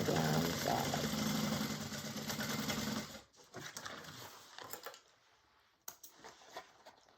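A sewing machine runs in a fast, steady hum while stitching down the sides of a piece, then stops, leaving faint handling noises.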